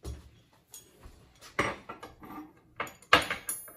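Metal sockets, a mix of metric and SAE, clink and clatter as they are picked from a pile and sorted by hand, with sharp scattered knocks and jingles at close range, no talking.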